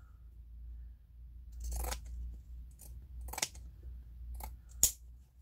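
Small scissors snip through fabric while making a quilted pillow case, a few separate crisp cuts spaced apart over a quiet low hum, close and fairly soft.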